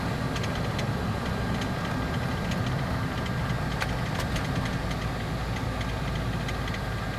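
A 1955 Chevy Nomad's engine runs steadily while driving, a loud, constant low rumble with road and cabin noise and no clear breaks.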